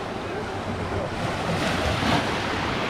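Sea waves rolling onto a crowded beach in Halkidiki, Greece, as the water turns choppy: a continuous broadband wash of surf with wind buffeting the microphone, rising slightly in a swell toward the end.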